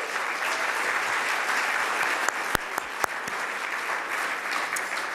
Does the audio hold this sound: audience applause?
yes